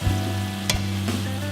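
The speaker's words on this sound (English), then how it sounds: "It tends to pop when you're frying things." Empanadas frying in hot oil give a steady close sizzle, with a few louder pops and crackles breaking through the continuous hiss.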